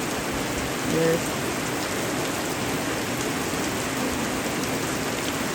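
Heavy rain pours steadily over an African village homestead, a dense continuous hiss of drops on surfaces with no pauses; a voice speaks briefly over the downpour.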